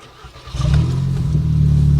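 A tuned Volkswagen Golf 6 R starts up, its engine catching after a brief quiet moment and settling into a loud, deep, steady idle close by.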